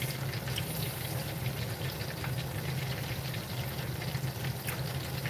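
Chicken thighs sizzle and crackle in hot oil on a home stove while an exhaust fan runs, giving a dense, continuous hiss layered over a low steady fan hum, with no talking.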